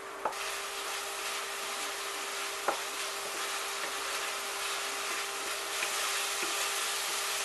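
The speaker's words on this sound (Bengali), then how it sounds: "আমি অনিয়নটাকে একটু ফ্রাই করে নেব" Onion and green chilli paste fries in hot oil in a pan, a steady bright hiss of sizzling with a few faint knocks of a spatula against the pan.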